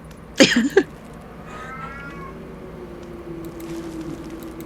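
A single loud, close cat meow, strained and wavering, then quiet with faint background noise and a low steady hum.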